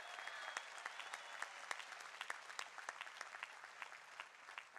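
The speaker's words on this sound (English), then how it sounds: "Let's give them one more big round of applause" A large commencement crowd applauds faculty and staff at a university spring graduation ceremony, with dense, steady clapping and sharp individual claps standing out throughout, heard from a distance.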